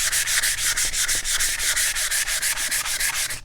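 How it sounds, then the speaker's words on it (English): Sandpaper rubbing across a wooden country cabinet in quick, steady back-and-forth strokes, a close, loud raspy scratching with even rhythm and no talking. "And I just start sanding,"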